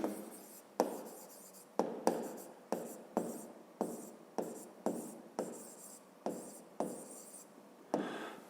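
A pen writes by hand on paper with a regular rhythm of about a dozen quiet, close scratching strokes, each starting sharply and trailing off, with no talking.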